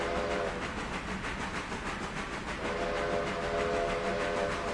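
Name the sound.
locomotive train speeding downhill in Railroader video game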